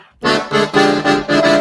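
An accordion plays a few loud, reedy chords in short pulsing bursts, close up, with no voices.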